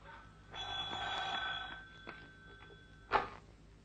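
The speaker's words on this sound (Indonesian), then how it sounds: "Ada telepon?" An old telephone rings once in a 1986 Indonesian film scene: a brief electric bell burst, then quiet, then a sharp knock-like bump.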